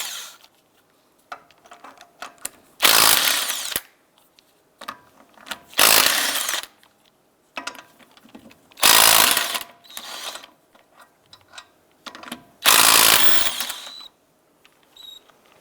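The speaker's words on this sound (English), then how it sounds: "Using a 19mm socket, go ahead and remove the lug nuts" An impact or power tool removes lug nuts with a 19mm socket on a 2001-2007 Ford Escape: four loud bursts, each about a second long, spaced a few seconds apart, with quiet handling clatter in between.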